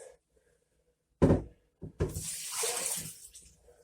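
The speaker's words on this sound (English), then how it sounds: "I'm just gonna rinse this out real quick" Water splashes as a Krystal Pure KR10 RO system filter housing is rinsed out, close by: a short splash, then a longer gush of running water lasting about a second and a half.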